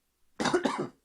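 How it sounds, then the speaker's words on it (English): A single close cough, a short double burst from one man, alone in an otherwise quiet room. "God damn the cough."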